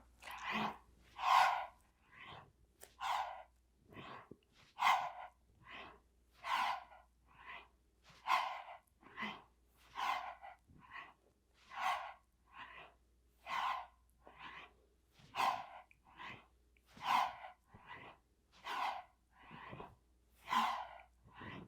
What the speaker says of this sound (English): So inhale to come down, exhale to come up.